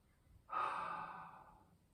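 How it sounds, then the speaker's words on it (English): A single long exhalation, a soft breathy rush that starts abruptly and fades gradually over about a second and a half, close and quiet with no speech. "If you're not breathing out, you cannot speak."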